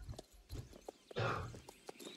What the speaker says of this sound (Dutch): Ik snap dat je Ranger mist, maar dat is ook gewoon een random paard